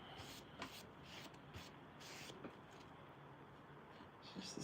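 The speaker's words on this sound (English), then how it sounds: "I'm applying the wax" Wax being rubbed onto a wooden piece by hand, a steady soft rasping friction with short repeated strokes, close and fairly quiet, with no talking.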